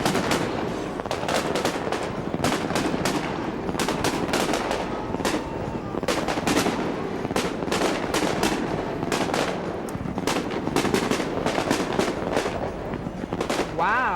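Rapid bursts of Winterfest fireworks popping and cracking in quick succession, a steady dense barrage of sharp bangs continuing throughout at moderate distance.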